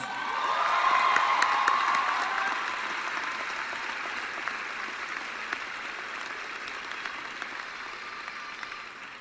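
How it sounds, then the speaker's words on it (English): Graduation audience applauding mentors and professors at a Suffolk University ceremony, broad sustained clapping with a few distant cheers, loudest early and then settling to a steady, slightly softer roar. "Can we please give them a round of applause?"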